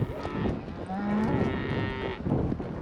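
Cattle moo during a large cattle drive up to the mountain. A drawn-out, moderately distant bellow rises over steady outdoor background noise, and a second call follows.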